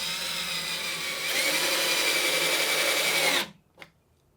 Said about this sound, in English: let's do a little bit of drilling, see what it can do